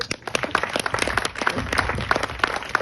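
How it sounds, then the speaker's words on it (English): A room of guests at a gathering honouring a rabbi and his wife gives a round of applause, with dense, steady clapping close by for the whole span. "And if everybody could give a round of applause to Mrs. Hipster herself."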